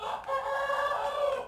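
A backyard rooster crows in one long, loud, drawn-out call close to the listener, with no voices.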